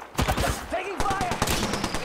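Automatic and single-shot gunfire in the battle royale game Apex Legends, rapid bursts of shots with brief gaps, loud and close, mixed with game effects and short voice callouts.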